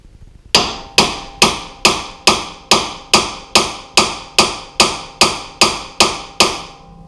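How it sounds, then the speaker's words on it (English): A hammer strikes a part repeatedly to knock it loose during a Rough Country 3.5-inch lift kit install on a 2007-2018 Jeep Wrangler JK, giving about fourteen loud, evenly spaced metallic taps, each ringing briefly before the next. "So let's tap it one time and see if it'll pop off."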